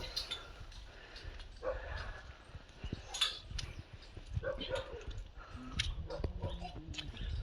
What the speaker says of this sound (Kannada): ಯಾವುದೋ ಒಂದು ನಾಯಿ ಬಗಳೈತಿ